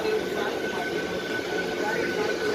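A large train pulls into Badlapur station with a steady rumbling roar and faint tonal whine. A child and adult can be heard talking over it.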